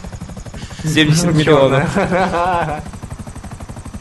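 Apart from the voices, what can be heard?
helicopter flying in GTA Online video game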